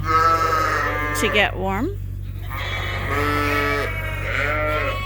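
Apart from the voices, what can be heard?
sheep and lambs bleating in a barn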